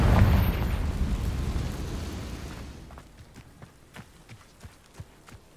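In the Hogwarts Legacy video game, a Confringo blasting spell explodes with a loud roaring boom that decays over a few seconds, followed by a series of soft thudding pops and clatters.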